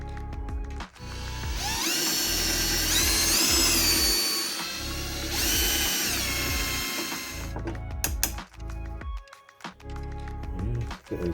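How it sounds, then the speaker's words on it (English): Drilling into metal on an IBM ThinkCentre M50 computer part with cobalt drill bits and a countersink tool, a loud, close, high-pitched whining drill in two long bursts, followed by scattered clicks and rattles of handling. "Got a countersink tool and some nice cobalt drill bits."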